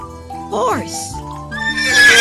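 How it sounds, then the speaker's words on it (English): A horse neighs in a short, rising and falling whinny over background music, loud and close. "Horse."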